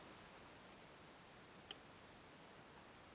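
A pin in a seven-pin Trioving cylinder lock being picked, one single faint, sharp click in near silence.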